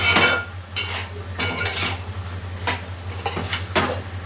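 White brinjal and drumstick curry being stirred after salt goes in, with a spoon scraping and clinking against the pot in several bursts over a steady low hum.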